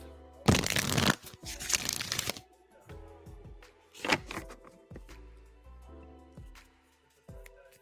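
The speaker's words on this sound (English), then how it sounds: "I'm shuffling for star now" A deck of cards is shuffled for a live tarot reading, with several bursts of riffling and crisp card flicks, close and clear, separated by quieter handling pauses and light taps.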